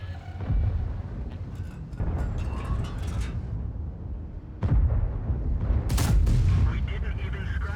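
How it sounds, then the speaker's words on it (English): Booming tank cannon shots fired with APCR rounds in a tank battle game, the T110E4 in action. Heavy blasts land at irregular intervals over a rumbling engine bed. Talk is heard under the fire. "we should be firing APCR anyway at these tanks"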